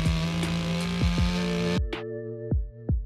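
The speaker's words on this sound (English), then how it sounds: "I'm gonna grab my chainsaw and just hack away at this thing." A chainsaw roars at high revs while cutting down an old, dirty tree stump on a mountain bike trail, then drops back to a lumpy idle with repeated throttle blips, loud and close.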